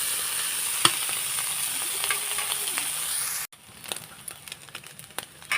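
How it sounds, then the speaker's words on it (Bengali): Prawns fry in a pan with a close, continuous sizzle and a few sharp spits, then the sound drops abruptly to a quieter, crackly hiss with scattered pops; no one speaks. "চিংড়ি মাছগুলোকে আমি সুন্দর করে কিন্তু ভেজে নিচ্ছি"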